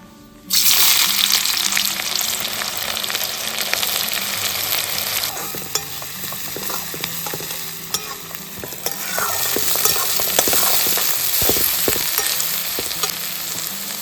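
Chopped onion dropped into hot oil bursts into a loud, close sizzle that stays steady and dense, broken by scraping stirs and clinks of a spoon in the pan, with no talk.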